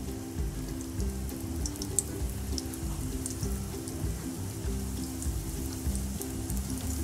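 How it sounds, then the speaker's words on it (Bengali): Food frying in a pan with patient, low-heat cooking for a simple one-ingredient snack, giving a steady fine crackle and sizzle with scattered pops, close and continuous, beneath a low background hum and with no voices. "একটু ধৈর্য ধরে ভেজে নেবেন।"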